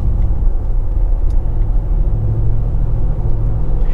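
A Nissan Titan Pro4X pickup truck drives up the road, giving a steady, low engine and road rumble that stays even throughout.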